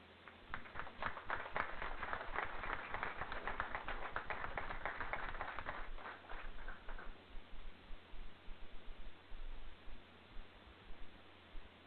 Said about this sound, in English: One more round of applause for our Los Fresnos High School DECA chapter